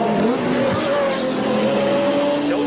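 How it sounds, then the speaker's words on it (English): IMSA GTP prototype race cars at Lime Rock in 1986 roar continuously at close range, with engine pitch sliding as cars pass one another on the track. "Oh, now there, I just saw the Holbert car pass the RC car."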